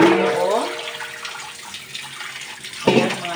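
Raw chicken washed under a running tap, a loud rush of water that splashes at the start, eases into a steady flow, then surges again near the end.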